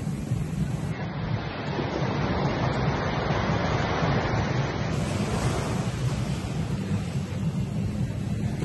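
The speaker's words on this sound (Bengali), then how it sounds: "দেখো জলের ঢেউগুলো আছে।" Sea waves break continuously on the beach at Coral Island, Thailand, a broad steady wash of surf with some wind buffeting the microphone, close and constant with no voices.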